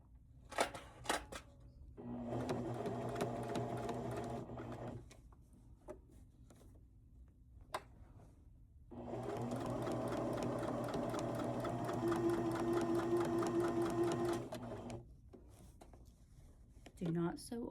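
A sewing machine runs a straight-stitch hem along the original hem of a pair of pants, in two sustained whirring runs of a few seconds each, close and steady, separated by a quiet pause with small handling noises.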